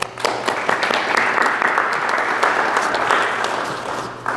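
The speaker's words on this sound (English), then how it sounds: "give them a round of applause as well." Sustained applause from a crowd at a college business division Hall of Fame induction ceremony, dense steady clapping filling the room for several seconds with no talk over it.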